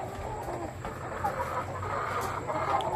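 Laying hens in a Montalban poultry house cluck softly in a steady, overlapping murmur across the whole stretch, with a few higher calls breaking through the flock noise.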